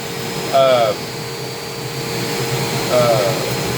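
Commercial floor cleaning machine, a self-running model used by a hotel cleaning contractor, drones steadily and close at hand with a constant motor hum, while two brief whining squeaks rise above it.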